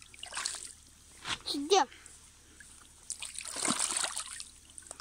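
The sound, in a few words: water splashing while feet are washed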